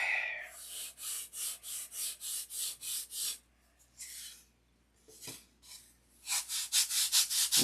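Deep scratches are hand-sanded with a sanding block in a quick run of steady back-and-forth strokes, then a pause with a few scattered rubs before another fast series of strokes, close and alone without talk.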